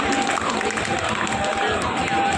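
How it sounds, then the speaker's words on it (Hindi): Steady applause for Republic Day tableaux rolls on as a dense, even wash of clapping from a large outdoor crowd, broad and continuous with faint murmuring underneath. "एक बार तालियां इन झांकियों के लिए"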